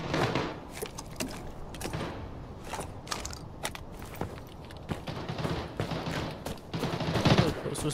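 Rapid bursts and single shots of gunfire from the video game Arena Breakout Infinite crackle at moderate distance, mixed with footsteps and mechanical clicks, while someone talks over the action.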